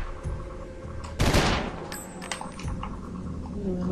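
An assault rifle in the video game Eternal Darkness lets off one loud, sharp burst of fire, followed by fainter clicks and rattles of handling against a steady game background.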